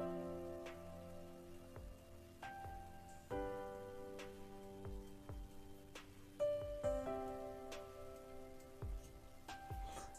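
A rain spell cast in the game Knight Pen and Paper 3 sounds as pattering drops over sustained chiming tones, punctuated by several bright plucked hits.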